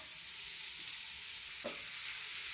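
Onions and tomatoes fry in a pan with dried red chillies while cooking a paneer gravy. A continuous bright sizzle carries throughout, with a brief stirring scrape partway through, close and steady.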